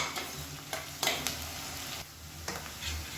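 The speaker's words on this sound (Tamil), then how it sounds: "இப்போ வெங்காயம் நல்லா வதங்கிடுச்சு" Onions sautéing in a pan for chicken curry sizzle softly while a spoon stirs them, with a quiet, steady fry broken by irregular scraping strokes, close up and without speech.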